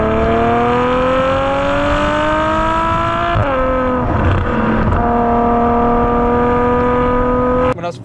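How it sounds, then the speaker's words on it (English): A loud Ferrari V12 engine revs and winds up, then drops in pitch at downshifts, with a roaring, blipping shift midway and another near the end. "Oh, just listen to those downshifts."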